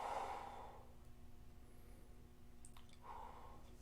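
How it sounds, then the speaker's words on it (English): A slow exhale during a seated twisting stretch, soft and breathy near the start and again faintly toward the end, with a steady low hum underneath and no talking. "And then breathe out."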